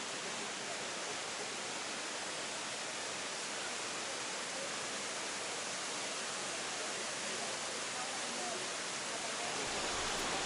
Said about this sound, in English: Below the grotto was a waterfall, flowing to a pool below.